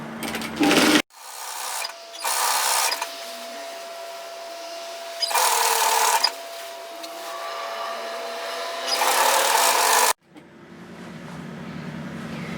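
A sewing machine stitches the side seam of a robe in several bursts of fast, loud whirring, with short pauses between runs and a quieter hum at the end.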